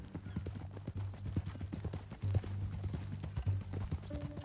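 Horse hooves clip-clop in a steady trotting rhythm in the video game Red Dead Redemption 2, close and clear, with a low continuous hum underneath and a brief tonal sound near the end.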